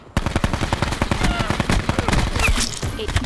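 Rapid automatic gunfire in the Absolute Zero video game crackles in dense, overlapping bursts at close range, loud and nearly continuous, with a few scattered single shots mixed in.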